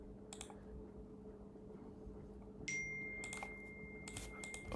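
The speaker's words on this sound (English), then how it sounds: "let me just type it" Computer keyboard keys tapped in short bursts of clicks, close and fairly quiet, with gaps between the bursts over steady low room hum.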